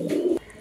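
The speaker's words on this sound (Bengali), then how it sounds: "চলেন আরেক পেয়ার কবুতর দেখাচ্ছি আপনাদেরকে" A pigeon, one of a pair of Pakistani Royal Teddy pigeons at a pigeon seller's, gives a single short, low coo close by. It stops abruptly, leaving quiet room tone.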